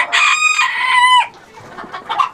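A rooster in a backyard flock crows loudly and close by for about a second, then the hens carry on with scattered soft clucks.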